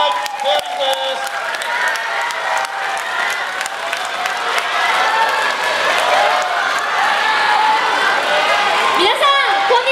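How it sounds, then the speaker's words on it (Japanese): Japanese release-event crowd applauding steadily to welcome the group Fairies, dense loud clapping with some cheering that holds for the whole stretch. "大きな拍手でお迎えください"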